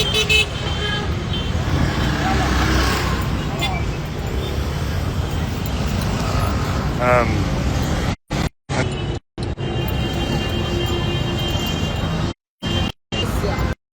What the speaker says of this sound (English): A lot of cars are going the opposite direction, but that's because they're coming off the highway.